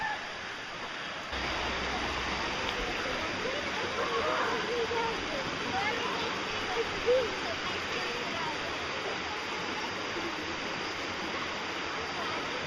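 Waterfall at Sliding Rock, a natural rock waterslide, rushing as a dense, steady roar that swells in after the first second and stays loud and constant.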